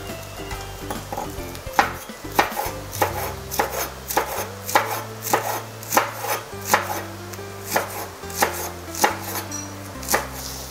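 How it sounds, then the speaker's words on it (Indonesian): A knife slices the green leaves of spring onions at an angle on a cutting board. The chops are quick, crisp and rhythmic, about a dozen close taps, over a faint sizzle of spices frying in a pan in the background. "untuk taburan saya akan gunakan daun bawang, bagian daunnya yang berwarna hijau. Ini saya akan iris miring."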